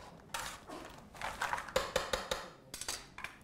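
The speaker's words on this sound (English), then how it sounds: "Season it, a little salt and pepper, mix it up." Vegetables for roasting being tossed with salt and pepper in a bowl, with a run of light clinks and taps of utensil against dish, close by and fairly quiet, no talking.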